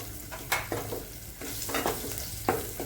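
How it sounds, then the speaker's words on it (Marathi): Onions fry in hot oil with masala for dum aloo, a steady close sizzle broken by a few sharp scrapes and clinks of stirring. "कांदे पण आपण छान याला तेलामध्ये परतून घेऊ आपण।"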